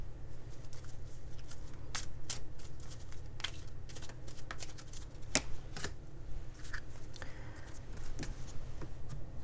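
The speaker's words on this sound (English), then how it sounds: "And I'm going to pull one of these Oracle Moon cards." Oracle Moon cards are shuffled and pulled by hand in a quiet room, producing a run of soft papery riffles and sharp flicks and snaps that scatter irregularly across the clip.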